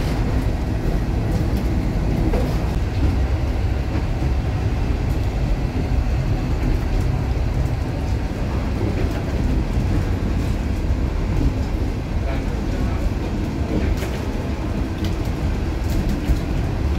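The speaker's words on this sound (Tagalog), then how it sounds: "pero mga Lodi, medyo matastas na rin ang narating ng train." Train climbing a mountain grade, heard from on board as a continuous low rumble and rolling wheel noise with no voices.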